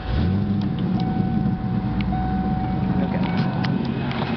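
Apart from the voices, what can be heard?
1994 Ford Mustang 5.0 running with intake whistling noise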